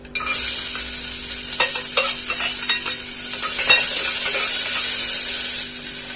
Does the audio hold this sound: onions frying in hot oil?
yes